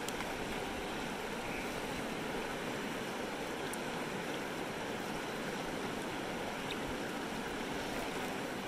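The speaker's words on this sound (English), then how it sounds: "I got a pretty good water flow going here" Creek water flows steadily around someone panning for gold in Grimes Creek, Idaho, a constant close gurgling wash with small lapping waves, running alone without a break.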